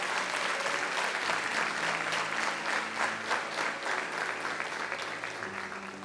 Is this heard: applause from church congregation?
yes